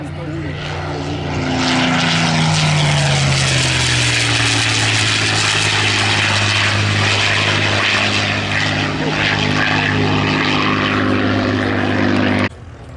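A WW2 P-51 Mustang propeller fighter flies past at a World War II weekend air show, its loud droning engine rising and holding steady with a falling pitch sweep as it passes, with an announcer talking over it.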